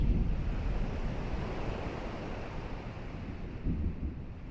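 A storm at sea in the Kingdom Hearts video game, with a continuous roar of wind and crashing surf and low rumbling swells that rise near the end, heard with no speech.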